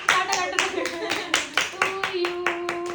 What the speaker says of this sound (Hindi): ताली तो बजाओ।